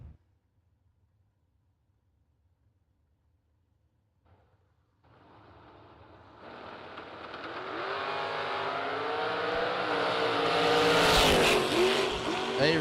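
A Chevrolet Chevelle drag race car roars off the line after a quiet idle, its engine climbing steadily to a loud, ragged high-revving scream as it pulls away down the strip.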